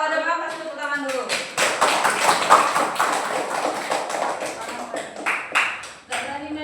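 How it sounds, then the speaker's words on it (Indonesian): Classroom children clap their hands together in a dense, lively burst of applause lasting several seconds, with a voice heard briefly before and after. "Kalau udah paham kasih tepuk tangan dulu"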